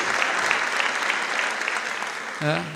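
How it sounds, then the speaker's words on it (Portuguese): Seated audience at a training gathering in Campina claps steadily throughout, dense and fairly loud, with a voice briefly cutting in near the end. "Palmas para vocês."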